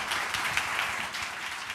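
Brief, even applause from a church congregation welcoming a pastor to the pulpit at a Korean church service; soft, steady clapping of many hands at a moderate distance.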